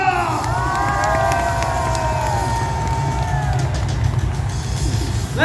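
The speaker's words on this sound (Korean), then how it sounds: "Let's encourage with a round of applause" A large crowd cheering and shouting, with voices sliding in pitch over a dense roar that may include clapping, loud and continuous.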